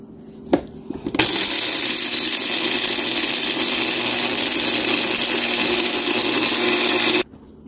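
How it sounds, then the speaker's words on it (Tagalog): Blender whirring steadily as it blends dog food with pumpkin and banana flavor for an American Bully puppy, starting after a couple of brief knocks and running loud and continuous for about six seconds before cutting off abruptly. "Tapos be-blender ko ulit."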